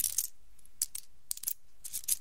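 Old 1-cent coins and holiday money are handled close to the microphone for ASMR, producing short bursts of bright metallic clinks and jingles separated by quiet gaps, with no speech.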